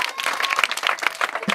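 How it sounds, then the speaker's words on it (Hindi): Loud, sustained applause from a large village crowd gathered at an outdoor Maithili comedy shoot, with dense clapping continuing steadily throughout. "जोरदार ताली"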